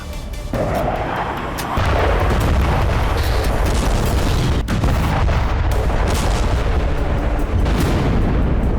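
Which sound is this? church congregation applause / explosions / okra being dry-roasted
explosions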